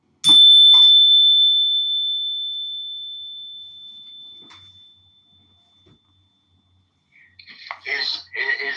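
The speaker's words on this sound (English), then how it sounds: "frequency beep at the end?" A single high-pitched electronic beep rings out loud and steady, then slowly fades over several seconds to near silence before a voice begins speaking.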